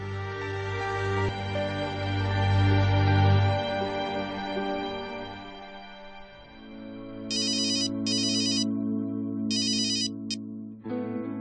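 A mobile phone ringtone plays as a call is placed, a sustained melodic tone followed by several short bright repeated ring bursts with brief gaps, clear and close, no talking.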